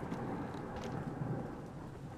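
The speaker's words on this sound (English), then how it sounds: "Thunder, rain," Steady rain and a low rolling rumble of thunder fill a stormy forest in the horror game Blair Witch, a dense continuous wash with no voices.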